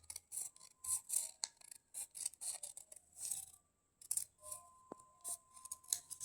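Scissors snip through a paper pattern for a fishtail skirt in quiet, close, repeated cuts and rasping strokes, separated by short pauses.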